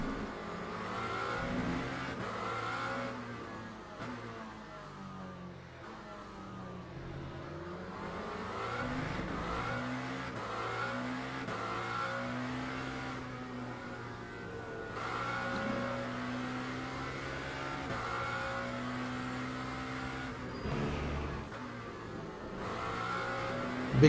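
Hypercar engines roar in Le Mans Ultimate at COTA as several cars race and overtake in traffic, with overlapping revs rising and falling, fairly quiet and steady throughout.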